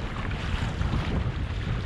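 Sea swell and waves, some around 10 feet high, wash around a Hobie fishing kayak off the UK coast, heard as a steady rushing, blustery noise mixed with wind buffeting the microphone, no voices.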